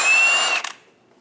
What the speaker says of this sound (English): Using a 21mm socket, we're going to remove the nut for the Pitman arm joint.